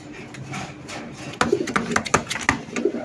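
Racing pigeons, including a hen, cooing in short soft bursts of several calls, fairly close, with faint background murmur and no clear talk over them.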